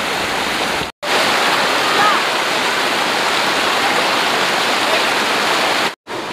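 Beerakuppam waterfall near Nagalapuram in Tirupati district pours in a loud, continuous broadband roar of falling water, steady and close, briefly cut off twice.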